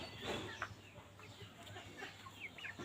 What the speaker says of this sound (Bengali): আমাদের বাসায় ব্রয়লার মুরগি